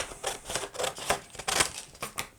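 Scissors cutting out black craft material for a pirate tattoo parlour Halloween decoration, a quick series of close crisp snips and paper rustles.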